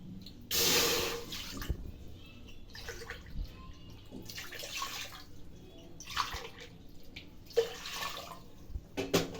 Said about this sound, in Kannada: ಫಸ್ಟು ಮೂರು ಗ್ಲಾಸ್ ನೀರು ಹಾಕ್ತಾಯಿದ್ದೀನಿ